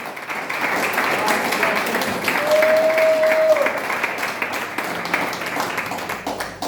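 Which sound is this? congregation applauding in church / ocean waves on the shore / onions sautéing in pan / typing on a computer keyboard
congregation applauding in church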